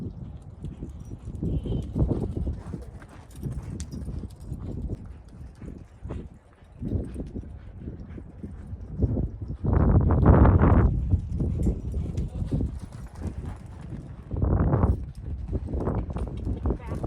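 Hooves of a horse at a canter, a steady rhythmic thudding that runs throughout, close by, with louder stretches and outdoor rumble.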